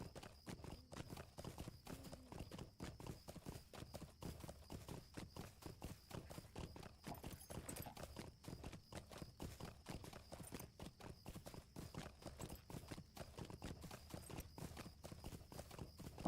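A chestnut horse in the online game Lord of the Rings Online trots with a steady, even clip-clop of hooves that continues throughout, faint and unaccompanied.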